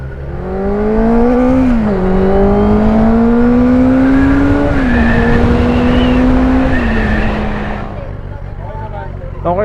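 A QJMOTOR 600RC motorcycle with a 600cc inline-four engine, still in break-in, revs loudly and steadily near the listener, its pitch rising and falling smoothly over about eight seconds before easing off.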